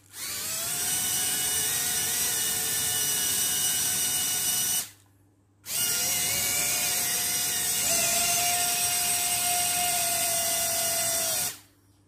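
A brushed 1s FPV drone motor whines loudly at high speed in two sustained runs of about five and six seconds, split by a brief pause, with a steady high-pitched tone.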